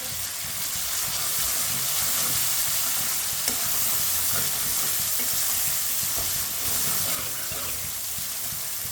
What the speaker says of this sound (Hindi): 2 बारीक कटे हुए टमाटर, 2 सब्ज़ मिर्च बारीक कटी हुई, अच्छी तरह मिक्स कर लेंगे